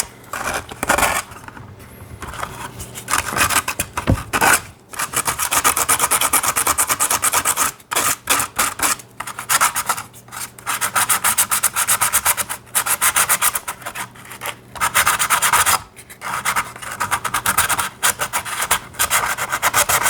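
Sandpaper rubbing over a painted dino mask, green showing beneath the blue paint, with steady close rasping strokes that pause briefly now and then over twenty seconds.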